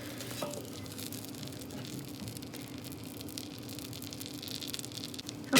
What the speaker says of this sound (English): as we're melting our butter